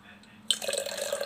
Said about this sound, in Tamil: உங்கள் எதிர தான் சுடுத்தண்ணி ஊற்ற போகிறேன்